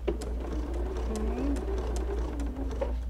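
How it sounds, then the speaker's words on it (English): A sewing machine stitches Cuddle minky binding onto a quilt with a steady low motor hum and rapid needle ticking, running continuously at close range. "I'm gonna stitch right up to the corner, about a half an inch away, and I'm gonna stop"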